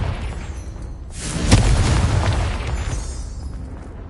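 A Confringo fire spell detonates in Hogwarts Legacy: one loud, sudden blast near the middle, followed by a rumbling, crackling tail that fades over a steady game ambience.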